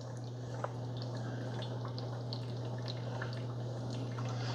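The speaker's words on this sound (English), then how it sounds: "Okay, so it started to brew. You can hear it brew in the water." A Cuisinart DGB-550BKP1 grind-and-brew drip coffee maker brews with faint, scattered drips and gurgles over a steady low electrical hum.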